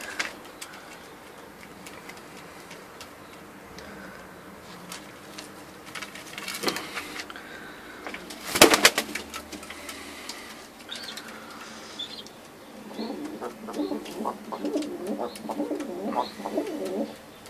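Soft pigeon cooing in the background amid light rustling, with a sudden loud clatter midway and low murmurs later.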